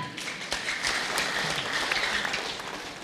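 An audience at a 2018 Prabumulih mayoral election debate breaks into applause, a full crowd clapping loudly and steadily with sharp individual claps standing out.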